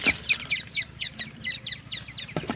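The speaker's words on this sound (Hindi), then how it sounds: "और ये देसी तीतर है, देसी तीतर के चिक्स।" Grey francolin (desi partridge) chicks kept in the sun in a pen, feeding on scattered feed, give a steady run of high, thin peeping calls repeated in quick succession, close and moderately loud, with no talking.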